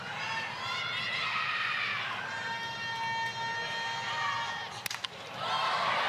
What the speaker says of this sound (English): there was an ooh and ah from the crowd when she swung